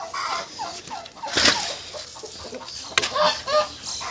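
Farmyard fowl calling near and far, a goose honking among gobbling turkeys and clucking hens, with a few loud bursts over steady background chatter.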